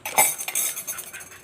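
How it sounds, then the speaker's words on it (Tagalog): A metal spoon clinks and scrapes against a bowl several times in quick succession, stirring a mixture with cold water, close up, with no voices. "Haluin muna natin siya sa malamig na tubig."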